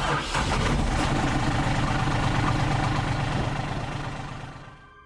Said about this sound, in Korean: 갑자기 트럭에 시동이 걸린 소리가 났습니다